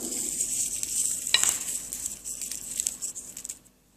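Chanachur snack mix fries in a pan as peanuts are sprinkled in, a bright steady sizzle with stirring scrapes and a sharp clink, then the sound cuts off abruptly.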